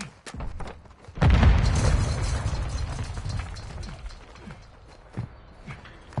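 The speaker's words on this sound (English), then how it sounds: "Throwing grenade!" A grenade detonates in a video game with a single loud, close boom that rolls into a rumbling tail, followed by faint scattered clicks and a small thump.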